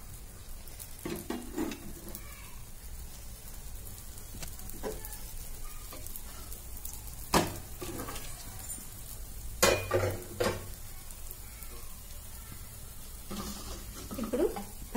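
Oil sizzles in a hot pan for a street-style pacchi karam dosa, a soft steady frying hiss broken by a few sharp clinks and scrapes of a utensil.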